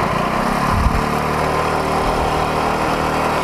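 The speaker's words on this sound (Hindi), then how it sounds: "can hear the exhaust note" Exhaust note of a 150cc motorcycle engine, a steady low rumble running continuously and fairly close, with a brief louder blip near the start.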